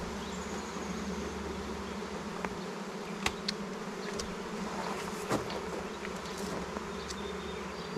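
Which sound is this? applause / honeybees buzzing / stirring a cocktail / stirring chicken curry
honeybees buzzing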